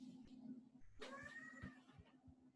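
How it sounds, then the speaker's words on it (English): A house cat gives a single drawn-out meow at moderate volume over a steady low background hum, with no talking heard. "My cat wants to be involved."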